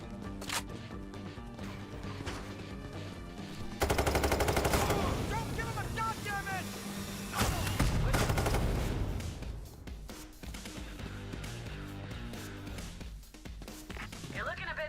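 Rapid automatic gunfire from the heist shooter game Payday 3, loud bursts of shots with bullet impacts over game music and effects, a voice talking across much of it.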